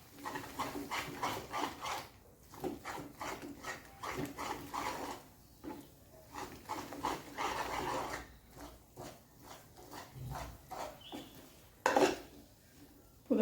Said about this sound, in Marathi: मी आता ते पुरण पूर्ण मिक्स करून घेते मसाल्यामध्ये